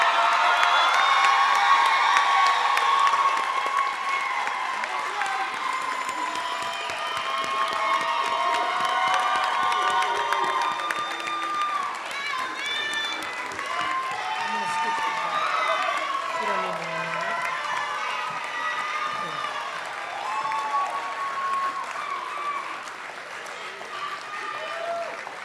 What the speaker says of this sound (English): Applaud a little bit more.